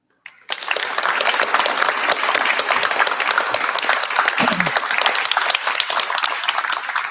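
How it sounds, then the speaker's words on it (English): Graduates at a Running Start graduation ceremony applaud their supporters in the audience with sustained loud clapping from a large crowd, starting abruptly and continuing evenly to the end. "applaud your supporters out in the audience to thank them"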